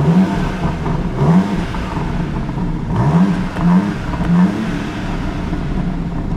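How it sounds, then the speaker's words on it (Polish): BMW M2 exhaust in its normal, non-sport setting: a steady mid-pitched engine drone with repeated rising revs and throttle blips, fairly close and loud, no talking. "To jest wydech w normalnym położeniu, nie sportowym."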